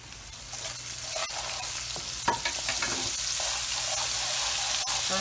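Chicken mince frying in a pan with spices just added, a steady loud sizzle running throughout with scraping stir strokes and occasional utensil knocks against the pan.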